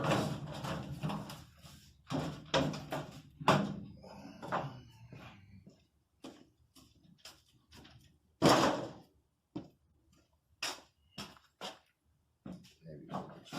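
Sliding doors being removed from an old metal shed being scrapped, with scattered clanks, rattles and bangs, one sharp louder knock midway, amid pauses and a person talking.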